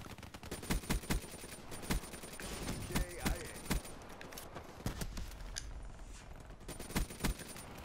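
ICR rifle fire in a shooter game, a string of sharp, evenly spaced single shots and short bursts cracking over a steady background of ambient battle noise.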